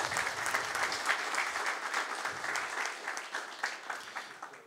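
An audience applauds at a book launch presentation, with dense, steady clapping from a crowd in a room that carries on for several seconds and thins slightly toward the end.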